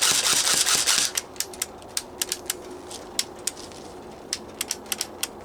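Crossman Gameface Insurgent AK airsoft electric gun fired on semi-auto, a string of sharp separate clicks at uneven intervals after a brief burst of rattling at the start, close and fairly quiet.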